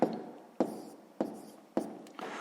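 Numbers being written by hand on paper during a sixth-grade maths multiplication exercise: four quick scratchy pen strokes at an even pace, close and fairly quiet, each starting sharply and then trailing off.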